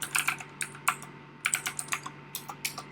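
Keys clatter on a computer keyboard in quick uneven bursts with short pauses, close and clear, with no voices.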